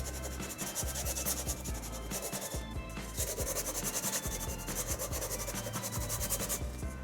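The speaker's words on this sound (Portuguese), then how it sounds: "Eu vou passar menos cera." Wax is rubbed by hand onto wood for a demolition-style patina, a close, dense, continuous scrubbing and rasping with rhythmic strokes.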